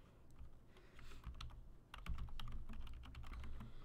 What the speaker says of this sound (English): Maybe I have to type it first. Yeah, I'll type it first.